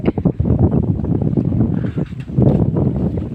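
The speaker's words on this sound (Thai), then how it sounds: "ว่าคลิปนี้เสียงลมเต็มแน่เลย" Strong, gusty wind buffets the microphone outdoors on a walk into the woods, a loud close rumble in irregular surges.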